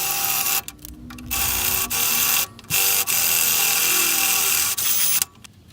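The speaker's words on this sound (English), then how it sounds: "I'm just going to drill a small pilot hole so that it lines up with these holes here." A power drill whirs in several short bursts of a few seconds each, with brief pauses between as it bores a small pilot hole while fitting a table saw fence.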